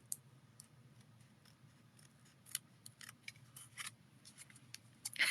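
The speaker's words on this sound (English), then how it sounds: "You take your scissors and you're going to round this little section." Scissors rounding off the corner of a paper gift card holder: a run of small, close, crisp snips and clicks that grows busier toward the end, with no talking.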